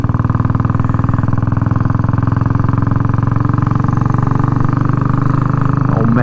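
Royal Enfield 350 Bullet motorcycle riding down a road, its single-cylinder engine thumping in a steady, loud, continuous rhythm close by throughout, with no talking.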